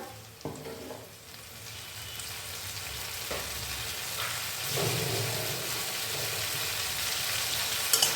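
Water from rinsing the grinder jar poured into a pan of white potato gravy for a no-onion aloo dum, setting off a steady bubbling sizzle that swells after a few soft clatters near the start.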